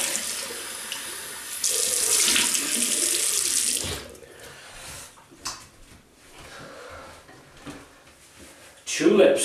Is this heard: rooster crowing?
no